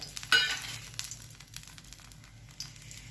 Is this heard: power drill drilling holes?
no